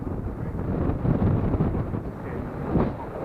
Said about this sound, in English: Got to block the wind for this camera.